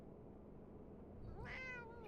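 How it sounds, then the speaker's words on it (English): A cat meows once in the Fallout 76 video game, a short rising-falling call heard near the end over a steady low background hum, with no talking. "Meow!"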